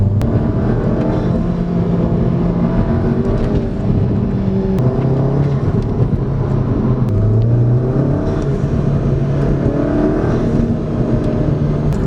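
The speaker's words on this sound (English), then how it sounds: "Alright, we're gonna try and get some intake noise." Engine and intake noise comes from a Volkswagen-group car fitted with a RacingLine performance intake, a steady loud drone with shifting pitch as revs rise and fall, continuous and without talk.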